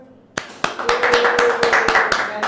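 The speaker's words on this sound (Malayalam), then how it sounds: "ഒരു ക്ലാപ്പ് കൊടുത്തേ." A class of students claps hands in a classroom, opening with a couple of sharp single claps before breaking into a steady, close burst of applause that fills the rest.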